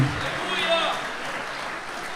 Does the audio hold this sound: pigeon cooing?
no